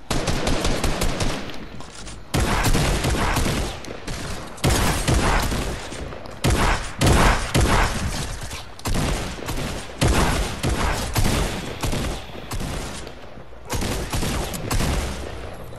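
Sustained video game gunfire in a battle royale match, dense automatic bursts and heavy shots continuing almost without pause at high loudness, with brief gaps between volleys.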